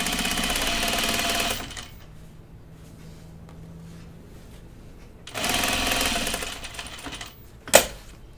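A sewing machine topstitching Yanta overalls runs in two loud steady bursts separated by a quieter pause, close up, ending with a brief sharp click, with no talking.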